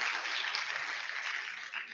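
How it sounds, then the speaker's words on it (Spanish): An audience applauds graduates at a university alumni event on coffee processing, a steady, dense wash of clapping that holds throughout and eases slightly near the end. "un gran aplauso a nuestros egresados"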